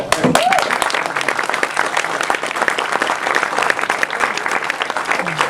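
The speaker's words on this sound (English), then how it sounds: "I think they deserve a round of applause." Audience applause at a film screening at the Film Forum, a steady, dense wash of many hands clapping from a nearby crowd throughout, with a voice heard briefly at the start.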